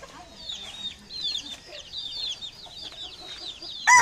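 Backyard flock of chickens with several roosters, steady overlapping clucks and chirpy calls close by, with a louder squawk at the very end.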